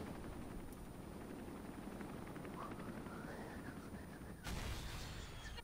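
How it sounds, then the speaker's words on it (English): Helicopter destroyed by gunfire and an explosion in the Resident Evil 3 Remake video game: a dense, steady roar of rotor and gunfire noise, then a sharp, louder explosive burst near the end. "Whoa! The helicopter is destroyed! Boom."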